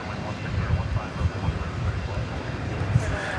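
An airliner arriving from Denver passes at DFW Airport at night, a low, rumbling engine drone with slight fluctuations, heard at moderate distance under a continuous background.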